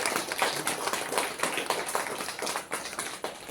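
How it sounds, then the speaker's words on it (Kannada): An audience claps for a Bharatanatyam dancer at a Hanuman Jayanti programme, a dense, steady patter of many hands filling the space at moderate distance. "ಎಲ್ಲರೂ ಚಪ್ಪಾಳೆಯ ಮುಖಾಂತರ ಸಂವೇದಿತ ಅವರಿಗೆ ಪ್ರೋತ್ಸಾಹಿಸೋಣ."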